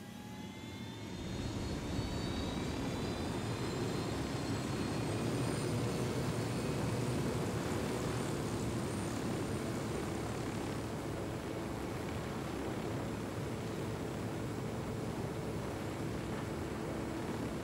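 A helicopter in a video game flies in a steady, continuous rotor and engine drone that holds for the full length at a faint, distant level, with a slowly rising whine at the start.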